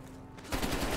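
A brief rapid burst of AK-47 automatic fire from the Call of Duty Cold War video game erupts halfway through, loud and close, after a quieter stretch.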